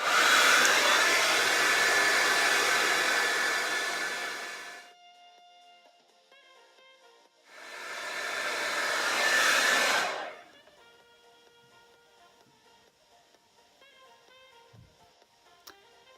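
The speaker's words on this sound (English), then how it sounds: "this is after blow drying my hair in different ways" Hair dryer blowing on hair, a loud steady whoosh lasting several seconds, stopping, then running again for a shorter burst before quiet room tone.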